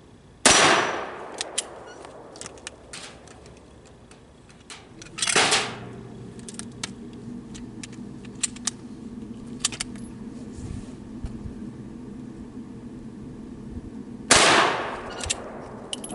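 Three sharp .22 WMR shots from a Keystone Crickett pistol ring out several seconds apart outdoors, the steel target clanging and ringing on after each impact.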